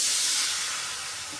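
Water hits a hot pan of frying masala for a chickpea curry with a loud, steady sizzling hiss that slowly fades over a second and a half, with no talking.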